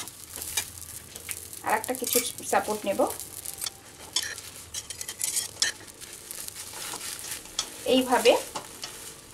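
A folded egg omelette fries in a pan, a soft sizzle broken by scraping spatula and utensil clinks, while someone talks intermittently over it.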